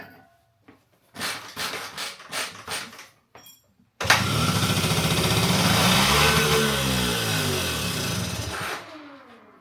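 A 1980 Honda Express II moped, not run in about ten years, coughs through several short attempts, then catches and runs steadily at a loud, close buzzing idle before cutting off.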